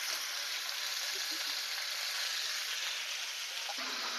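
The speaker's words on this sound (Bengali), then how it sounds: "নুন আর হলুদ দিয়ে আলুটাকে 2-4 মিনিট ভেজে নিয়ে তারপর আমি বাকি মশলাগুলো দেবো।" Potatoes frying with salt and turmeric over a medium flame give a steady, close hiss that runs unbroken throughout, with a faint clink near the end.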